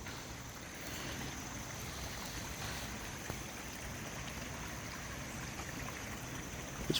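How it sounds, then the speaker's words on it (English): A creek flowing in a park, a faint continuous rush and trickle of water holding steady from start to finish, with no voices over it. "There's a creek."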